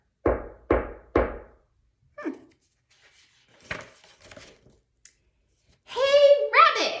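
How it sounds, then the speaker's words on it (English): Three sharp, evenly spaced knocks on a door ring out close and loud at the start of a children's story about a hungry fox at home, followed by scattered soft clicks and then a voice speaking. "he was startled by a knock at the door"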